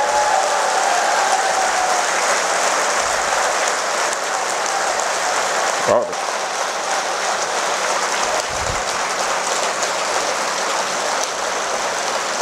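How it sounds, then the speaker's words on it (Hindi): A large outdoor political rally crowd claps continuously, a dense, steady wash of applause like heavy rain, sustained without a break from start to finish. "एक बार मेरे कहने पर लगातार एक मिनट तक ताली बजा दीजिए"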